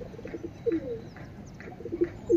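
Soft, repeated low cooing from a pigeon, several short murmured calls spaced across a quiet background, with faint chirps.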